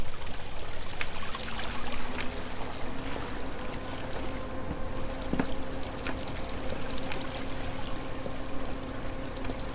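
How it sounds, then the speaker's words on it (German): Overflowing water pours and streams steadily in the Minetest block-building game, a continuous, fairly loud rushing wash that holds even for the whole stretch with no pauses. "Hier ist es auch überfließendes Wasser, ne?"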